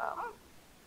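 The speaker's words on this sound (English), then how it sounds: "Oh, there's two dogs." Dogs in The Sims 3 video game, one short faint whimpering yip at the very start, then quiet.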